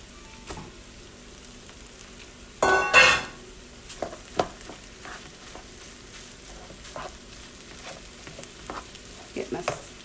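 Sausage drops into a hot pan for Southern dirty rice and erupts into a loud burst of sizzling, then settles into quieter frying with scattered utensil clatter and stirring scrapes.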